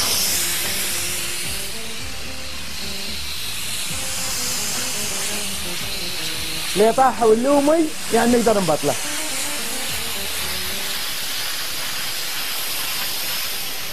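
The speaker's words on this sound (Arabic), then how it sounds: "ما نفتحها لما نتأكد أنه وقف البخار." Steam hisses loudly and continuously from a pressure cooking pot of meat as its pressure is released. A person talks over the hiss for a few seconds in the middle.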